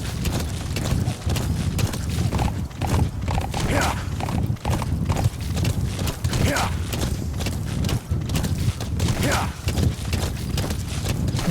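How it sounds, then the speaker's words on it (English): Horse hooves clip-clopping at a quick pace in Metal Gear Solid V: The Phantom Pain, a steady rhythmic beat running throughout under near-continuous talking. "No me gusta darle azotes así al caballo"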